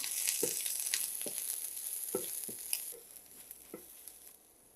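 Chopped onions for cabbage bharta frying in a pan, a close, steady sizzle broken by scraping stirs and soft knocks, fading quieter near the end, no talk.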